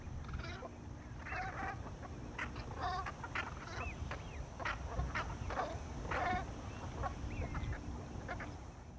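Thousands of Brent geese call in short honking and cackling bursts from a distance at the Fleet Lagoon, Chesil, over a steady low rumble of wind or water, many birds overlapping.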